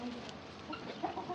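Chickens in their new coop, soft scattered clucks from a few birds at close range, faint and intermittent over low background noise.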